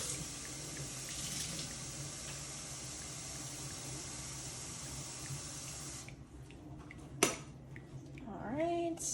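Tap water runs steadily into an espresso machine's water reservoir for about six seconds, then cuts off, followed by a sharp click and some handling noises as the reservoir is set back.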